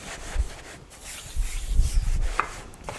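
Hands rub and smooth the covering on a Minecraft-themed cake, giving soft, close scuffing and brushing with a few light taps, uneven in rhythm and with no talking.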